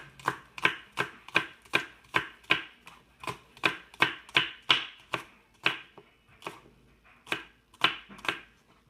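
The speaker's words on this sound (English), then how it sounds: "the rest of the green onions, I'm just going to do thin slices" A knife thinly slices green onions on a cutting board in a steady run of about fifteen crisp, close chops, each a sharp tap with a brief pause before the next.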